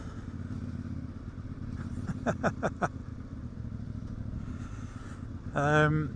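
Motorcycles, a CF Moto 450MT and a Royal Enfield Guerrilla, ride along a road with a steady, close engine drone, a short run of clattering ticks, and a brief rising rev near the end.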